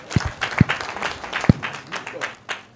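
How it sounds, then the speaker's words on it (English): Applause at a Transcorp Power annual general meeting, scattered and uneven clapping from a seated audience with a few sharp, close claps standing out and a murmur of voices underneath. "Please let us give them a round of applause."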